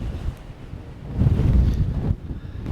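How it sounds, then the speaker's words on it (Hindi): Strong wind batters the microphone in a Moroccan village, producing loud, rumbling buffeting gusts that build and fall, with no talking. "चारों तरफ तेज़ हवा चल रही है यहाँ पे।"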